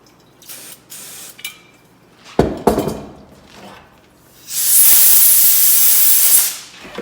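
Contact cleaner sprays in a steady, loud hiss for about two seconds onto Lucky fork cartridge valving parts, after a few quieter taps and a sharp knock on the workbench.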